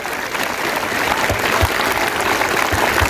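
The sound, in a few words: school audience clapping loudly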